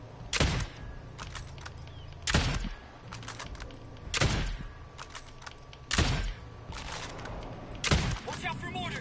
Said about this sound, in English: Watch out for mortars.